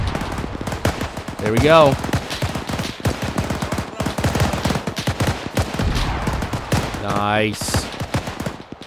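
Rapid machine gun fire in an Arma 3 WWII battle, dense crackling bursts that go on almost without a break, some shots near and some far, with a voice speaking briefly over it.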